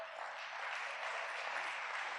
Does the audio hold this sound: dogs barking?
no